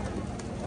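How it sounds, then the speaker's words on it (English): Pigeons cooing in the square by the Duomo of Milan, Italy, a short soft coo close by over steady outdoor background noise. "Look at the pigeons!"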